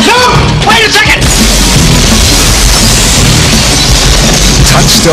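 Gunfire and explosive booms fill a movie trailer for the 1993 action comedy Another Stakeout, with loud sustained blasts and crashes packed densely under music and brief shouted voices.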